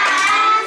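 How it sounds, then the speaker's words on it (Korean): Children clap together in praise for a classmate in a third-grade classroom, a short burst of close, dense applause that fades slightly at the end. "효민이한테 칭찬의 박수 시작!"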